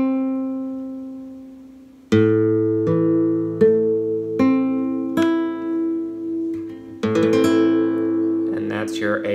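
A minor chord notes picked one string at a time on guitar after a single held note, then let ring together and strummed near the end, clear and close.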